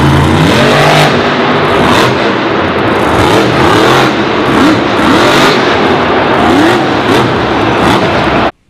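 A monster truck engine roars loudly and steadily at high revs for about eight seconds, then cuts off abruptly.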